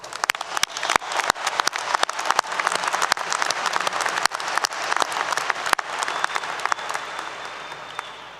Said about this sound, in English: Let's applaud those who have supported you along the way.